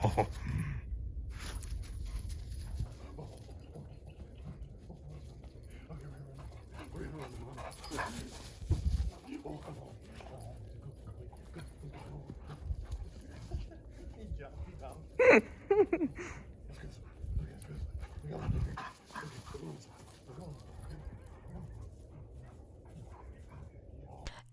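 Starved, neglected Pitbull dog whimpering and yipping in short bursts close by, with people talking over and around the soft whines.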